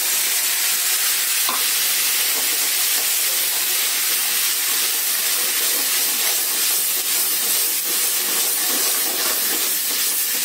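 Paste of onion, garlic, green chili and ginger sizzles steadily in a hot pan for dal makhani, a loud, continuous frying hiss with faint stirring scrapes and no talk.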